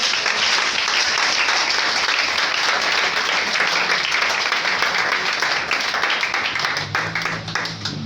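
A church congregation applauds during a sermon, with steady, dense clapping that fills the room for about eight seconds and thins slightly near the end as a faint tone rises underneath.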